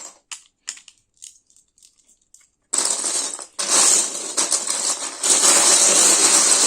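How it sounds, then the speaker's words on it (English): Lego bricks clicking and rattling as they are handled while building a spoon, first a few sparse taps, then dense continuous clattering and scraping of plastic pieces close by. "Don't you just love that sound? The sound of Legos."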